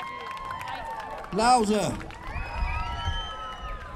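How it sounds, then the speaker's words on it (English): A crowd on a busy London street in the West End breaks into a short burst of cheering and whooping, with a sharp rise of shouting voices under a man's nearby speech and street ambience. "Yeah, round of applause."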